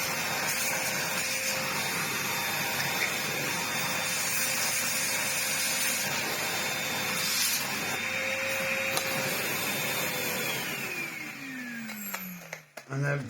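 A small vacuum cleaner sucks up solder swarf with a steady high-pitched whine and motor drone that holds for several seconds, then winds down with a falling pitch near the end. Faint sounds of handling are heard over it.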